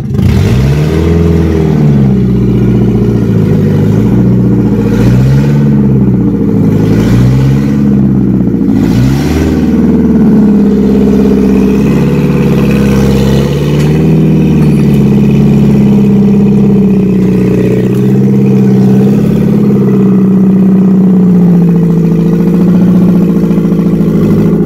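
A Volkswagen New Beetle convertible engine drives up close and loud, with repeated revs rising and falling over a steady running drone before settling into a more even hum.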